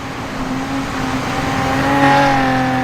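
NASCAR race cars roar around the wet Red Bull Ring in a racing game, a loud steady engine drone that swells slightly as the cars accelerate, with a continuous hiss of spray beneath.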